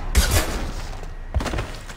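Two loud bursts of gunfire from the sci-fi shooter game Mass Effect 2, close and heavy, with a short pause between them and no talk over them.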